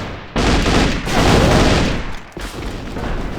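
Rapid automatic gunfire rattles in the online shooter Alliance of Valiant Arms during a competitive match, loud and dense bursts filling the moment with brief dips between volleys.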